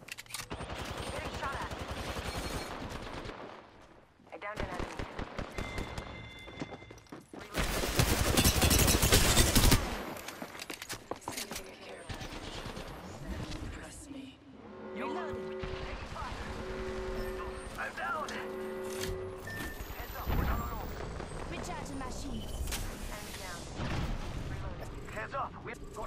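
Gunfire and shooting in the battle royale game Apex Legends, with bursts of shots and explosions coming in waves across the fight, a loud blast-heavy stretch in the middle, and a player talking over parts of it.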